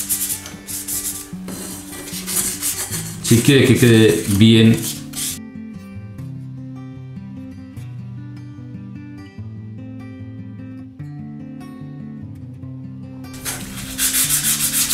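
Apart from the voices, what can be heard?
sanding parts of an OcCre Flying Dutchman model ship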